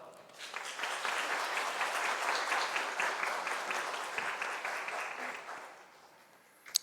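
A church congregation at a Friday prayer meeting claps to welcome a missionary, a full, even wash of applause that swells quickly, holds steady, then tapers off.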